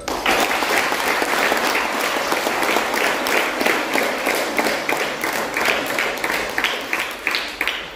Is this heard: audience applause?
yes